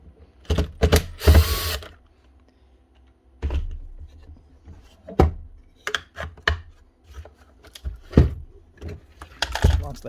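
A driver with a long bit backs screws out of deep holes in a Makita DMR104 radio, giving scattered clicks, ratcheting and handling knocks with quiet gaps between them.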